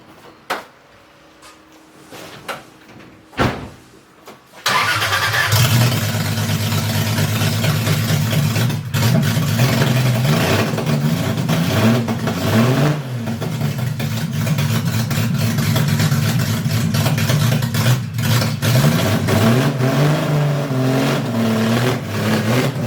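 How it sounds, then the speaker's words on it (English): A turbocharged Toyota Supra 2JZ-GTE engine cranks with a few short knocks, then catches and runs loud and close. It holds a steady rumbling idle and rises in several revs. "because who doesn't love a loud car? So let's drive it back in the garage"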